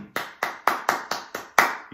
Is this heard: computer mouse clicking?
no